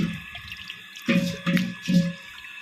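Water from a kitchen sink tap runs over prawns as they are washed, heard close as splashing bursts that start and stop in a few quick pulses.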